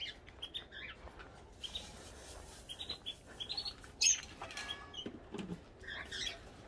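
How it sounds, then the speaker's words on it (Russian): Pet birds in a cage chirp and tweet softly in scattered bursts, with brief sharp calls. The setting is quiet, with a light background hiss. "Посмотрю своих птичек."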